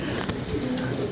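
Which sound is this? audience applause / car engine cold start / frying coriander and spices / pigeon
pigeon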